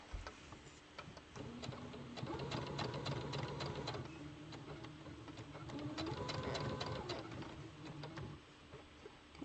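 A sewing machine stitching a seam on a T-shirt dress, a fast steady rattle of the needle that runs in two long bursts with a brief pause between, close and without talk.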